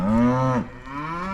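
A cow mooing on a summertime farm, one long, close, loud low call that breaks off, followed by a quieter second moo.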